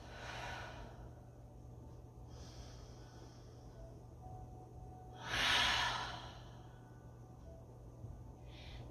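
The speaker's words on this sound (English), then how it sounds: "Take 2 deep breaths" Slow deep breaths during a quiet yoga flow: a faint airy inhale near the start, then one clearer, fuller breath in the middle and a soft hint of another at the end, over a low steady room hum.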